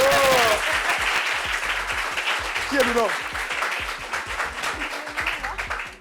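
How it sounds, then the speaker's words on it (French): Audience applause fills the room, a dense steady clatter of many hands that thins slightly toward the end, while someone talks over it in French. "On va l'applaudir pour le ventre des gars."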